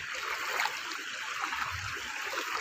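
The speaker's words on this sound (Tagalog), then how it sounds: "Mas malakas yung agos ng tubig doon, no?" Floodwater rushes and gurgles in a steady, continuous flow nearby, a broad hissing current without any voices over it, in Barangay Talomo.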